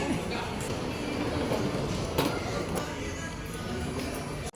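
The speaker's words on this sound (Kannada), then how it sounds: "ನೋಡಿ ಗೈಸ್ ಟ್ರೈನ್ ಟ್ರೈನ್ ಬಂತು ಟ್ರೈನ್ ಬಂತು" A train rumbles steadily past at close range, a dense continuous roar with faint clanks, while people talk underneath.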